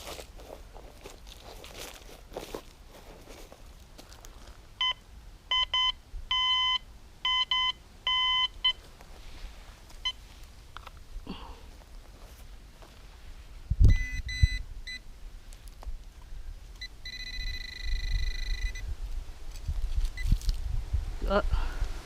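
A metal detector sounds several series of high-pitched electronic beeps at a dig for metal, in clusters midway and again near the end. Crunching ground and footsteps run beneath, and people talk in between.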